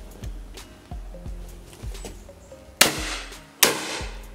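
Two sharp, loud shotgun blasts fired at clay targets ring out close by, spaced under a second apart, after a run of softer thumps and outdoor background noise.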